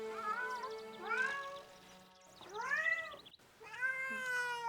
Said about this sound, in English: Does kitty cat belong here?